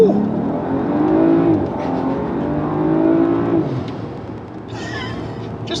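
A modified BMW 535i M Sport accelerates hard along a straightaway, its engine note climbing through two rising sweeps with a shift between them. It is loud and close from inside the cabin, and a faint higher chirp comes in near the end.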